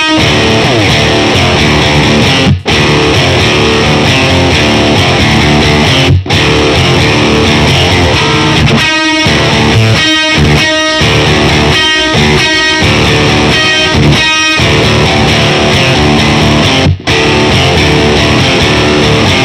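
Heavily distorted electric guitar plays a song in a loud, dense riff, with sharp rhythmic stops and chugging muted bursts midway, and no voices.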